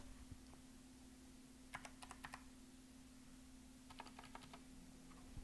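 Two short bursts of typing on a computer keyboard while logging in to a domain user account, quick quiet clicks over a steady low hum, with no talk.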